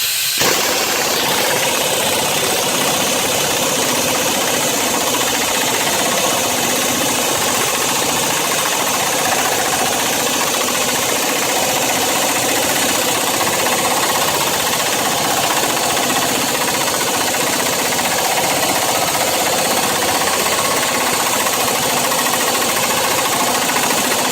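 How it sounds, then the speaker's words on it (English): A pneumatic air tool runs continuously while pressing a new wheel lug stud into an automotive hub, a loud, steady rattling hammer with no pauses and no talking. "you grab your air tool, make sure it's set to push in, and go for it."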